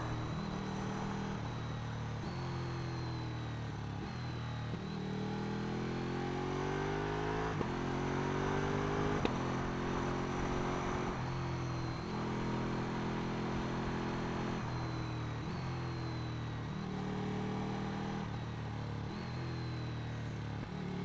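A Ducati 1299 Panigale S motorcycle engine heard while riding, a continuous loud drone rising in pitch through repeated accelerations and gear changes, with wind noise throughout.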